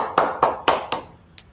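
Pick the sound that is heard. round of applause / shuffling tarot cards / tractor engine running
round of applause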